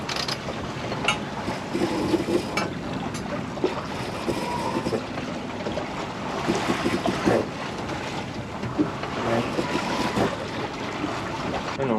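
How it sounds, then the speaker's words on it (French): Strong wind blowing over a sailboat at sea, with a continuous gusty rush and buffeting on the microphone, water washing along the hull and occasional knocks from rigging, with no voices heard. "le vent a forci un peu quand même"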